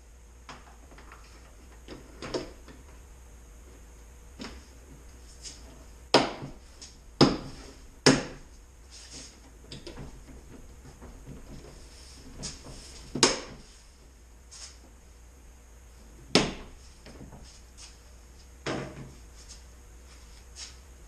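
Metal cover panel being fitted back onto a Land Cruiser door, giving scattered sharp clicks, clunks and snaps at irregular intervals over a quiet background hum.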